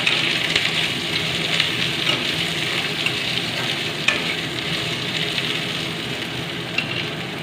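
Chopped ridge gourd peel frying in a hot pan with garlic, a steady close sizzle and crackle running throughout with soft scraping of a spoon stirring, no voices.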